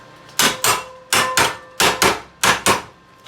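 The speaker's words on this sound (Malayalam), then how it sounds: "അല്ല എന്നുണ്ടെങ്കിൽ അങ്ങോട്ട് തട്ടി കൊടുക്കാണ്ടെങ്കിൽ ചെറുതായിട്ടൊന്ന് തട്ടി കൊടുക്കുക." Metal pieces are lightly tapped into position before welding, with six sharp, ringing hammer knocks falling in quick pairs, close and loud.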